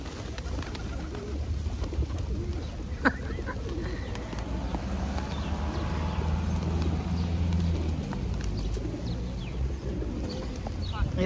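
A large flock of pigeons in a city park in Severin, with soft cooing and bird calls spread through a steady outdoor murmur, a sharp knock near the start, and people talking in the background.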